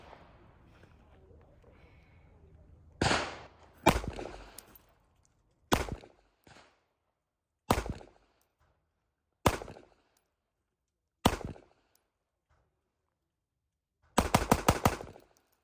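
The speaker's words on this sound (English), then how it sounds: "We're gonna do 5 controlled rounds, then we're gonna let it rip 5 rounds." A Springfield Prodigy 4.25 pistol fires loud, sharp gunshots outdoors, several single spaced shots at steady intervals followed by a quick rapid string of rounds at the end.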